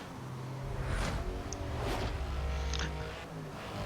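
A car driven in Need for Speed Hot Pursuit Remastered, with a steady, loud engine drone and rushing road noise that swells and eases slightly over a few seconds, no voices.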